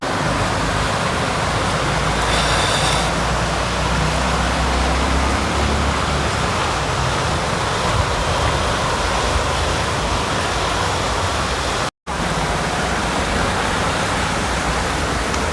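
Heavy monsoon rain pours steadily during a commute to work, a loud, unbroken wash of noise with a brief cut near the end.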